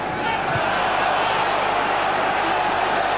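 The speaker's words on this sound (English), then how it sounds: "The crowd are not happy with Sinclair's throw-ins, are they? That's the second occasion they've shouted for a foul throw." Football crowd at a 2001/02 Charlton Athletic v West Ham United match roaring and shouting in protest at a throw-in, a dense, steady wall of stadium noise with commentary over it.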